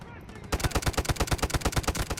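Rapid automatic gunfire in the mobile shooter Delta Force Mobile, a loud, close, evenly paced burst of about ten shots per second that starts abruptly and continues without pause.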